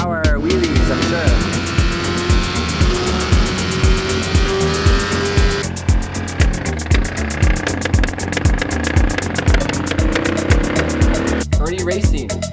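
A BMW S1000RR superbike screams around a race track at practice, engine revving hard and steadily through repeated gear changes, loud and close from onboard, with a sharp upshift pattern and a brief engine note change near the end.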